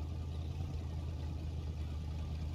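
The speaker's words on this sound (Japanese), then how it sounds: "このままアイドリングしててもな。" A motorboat engine idles in the survival game SCUM, a low, steady droning rumble holding an even pitch close by with no voices.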